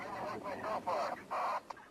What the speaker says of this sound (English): Now there's birds coming in.